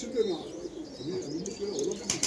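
Tumbler pigeons kept as performing birds coo softly and repeatedly at close range, with a few chirps near the end.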